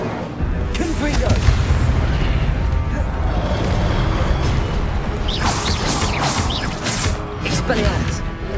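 Repeated blasting-spell explosions and combat effects in the Hogwarts Legacy video game on PS4, a dense, continuous barrage of booms and crackling impacts with sharp bursts throughout.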